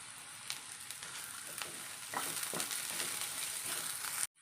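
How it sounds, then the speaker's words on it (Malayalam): Green chillies and curry leaves, with onion, sizzling in hot oil for a cabbage egg thoran; a steady close frying hiss with stirring scrapes, no talk, cutting off abruptly near the end. "നമുക്ക് കറിവേപ്പില ഇട്ട് കൊടുക്കാം."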